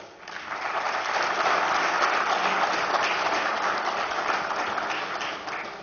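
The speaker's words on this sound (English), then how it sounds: "A huge round of applause." An audience applauds after a fireside chat with speakers, a steady, even roar of many clapping hands swelling in and holding at moderate loudness, then easing slightly at the end, with no voices over it.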